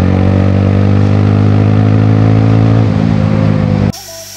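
Bajaj Apache RTR 160 motorcycle fitted with an Akrapovic exhaust, running on the bend pipe alone, roars loud and close in a steady rasping drone that shifts in tone partway through, then cuts off sharply near the end.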